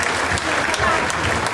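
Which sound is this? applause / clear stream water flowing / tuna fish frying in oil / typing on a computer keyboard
applause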